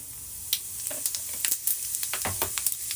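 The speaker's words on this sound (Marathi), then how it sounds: "तेल आपलं गरम झालेलं आहे यात मी मोहरी टाकते जिरे" Mustard seeds and cumin dropped into hot oil, a soft sizzle broken by scattered sharp pops and crackles at irregular intervals, close but fairly quiet, no speech.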